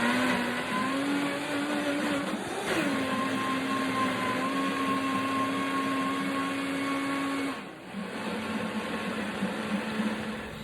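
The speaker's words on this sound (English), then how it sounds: "So turn that thing up to high and really get this pesto blended." A blender running on high speed whips up pesto, a steady loud whirring motor with a dip in pitch near the middle and a brief slowdown toward the end before resuming.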